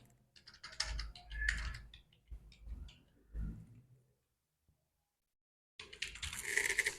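An OTR number is typed on a computer keyboard while filling out an online application form, producing bursts of close, rapid key clicks separated by a quiet pause, then another flurry of tapping.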